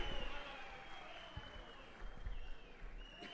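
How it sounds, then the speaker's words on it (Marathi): An audience claps in a steady, dense wash at an outdoor ceremony for the Jihe-Kathapur lift irrigation scheme, with a faint amplified hum underneath. "टाळीचा गजर झाला पाहिजे"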